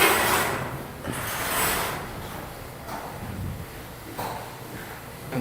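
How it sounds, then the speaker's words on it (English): A heavy door is pulled open at a recovery operation on a cold job, with scraping, sliding and mechanical clunks close by, then rustling handling noise and no voices. "You can see right now he's opening the door."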